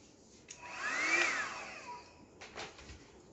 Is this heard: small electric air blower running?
yes